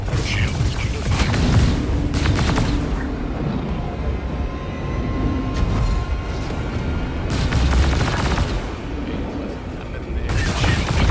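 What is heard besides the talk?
spaceship shield taking weapon fire in video game Star Citizen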